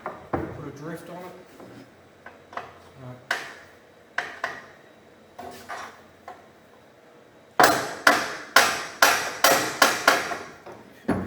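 Metal-on-metal hammer strikes drive a drift against a front hitch pin on a compact tractor with a 4-in-1 bucket: scattered single taps early, then a rapid run of about eight loud, sharp blows near the end, with no talk.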